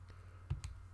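Two or three light key clicks from numbers being entered on a calculator keypad, close and fairly quiet over a steady low hum.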